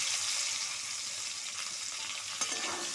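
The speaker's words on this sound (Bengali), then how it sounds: "এবার আমি পটলগুলো ভেজে নিচ্ছি।" Pointed gourd (potol) pieces frying in hot oil give off a steady, dense sizzle with a soft stir or scrape near the end, close and continuous throughout.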